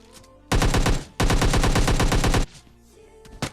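Automatic gunfire rips through a PUBG Lite battle royale match: a short burst, then a longer sustained volley of loud rapid shots, followed by quieter echoes and one final sharp burst.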